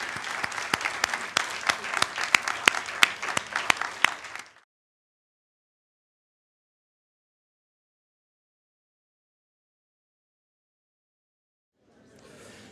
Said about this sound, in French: Je vous invite à les applaudir.